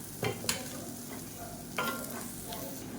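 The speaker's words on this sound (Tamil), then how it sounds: "சேர்த்துட்டு நல்லா கலந்து விட்டுக்கலாம்" A spoon stirs roasted spice powder through crispy fried raw banana in a pan, with a few scraping clacks over a steady low sizzle, close by and without speech.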